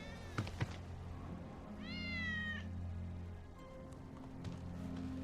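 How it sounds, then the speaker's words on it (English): A single drawn-out meow from Wedge's cat in Final Fantasy VII Remake rises over steady in-game background music, with a few soft taps before it and quieter tonal game sounds afterward. "That's Wedge's cat."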